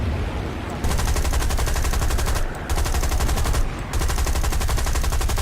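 Sustained machine gun fire from a P-26 fighter aircraft in the War Thunder air combat game, a loud continuous rapid rattle over engine drone, broken by two short pauses between bursts.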